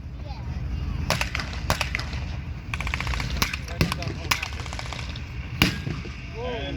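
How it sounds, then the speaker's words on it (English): Artillery shelling at a WW2 tank battle reenactment, several sharp, distant booms and bangs spread irregularly over a steady outdoor rumble of crowd and engines. "the Americans are now being shelled from a long distance because the Germans have called in artillery"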